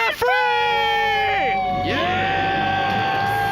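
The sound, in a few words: people shouting a celebratory debt-free scream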